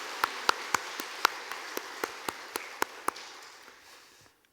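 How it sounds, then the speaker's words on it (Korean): Sparse, soft claps from a church congregation during a Sunday service, about a dozen distinct hand claps in an uneven rhythm that fade into near silence at the end. "하나님께 감사의 박수 드리겠습니다"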